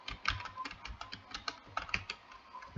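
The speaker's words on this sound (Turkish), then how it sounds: "Klavye sesi kesin çok çıkıyordur abi" Rapid clicking of a computer keyboard, keys tapped in quick irregular bursts, close and fairly soft, with no voices.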